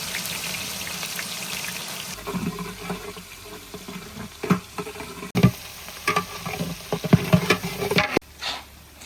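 Cumin and four kilos of onions sizzle in hot oil in a large pot for masala khichdi, with a steady crackling hiss and bursts of scraping and stirring close by.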